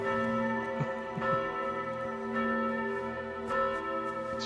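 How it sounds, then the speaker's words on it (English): A loud, resonant bell in Kingdom Come Deliverance 2 rings with a sustained metallic hum, fresh strikes landing every second or so over a long ringing tone, steady and close. "Is it this bell that's doing it? It's so loud."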